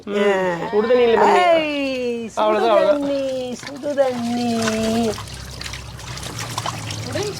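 Hot water pours and trickles into a child's new backyard swimming pool; voices talk over the first few seconds, then a steady close splashing stream carries on alone.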